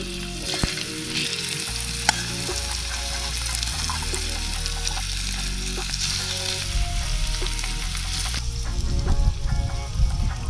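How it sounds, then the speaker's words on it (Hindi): Paneer cubes frying in hot oil outdoors, a steady loud sizzle with stirring and clinking throughout, with no talking. "ये थोड़ा गर्म हो चुका है लग रहा है, और तो चलिए अब हम पनीर जो है इसके ऊपर डालते हैं।"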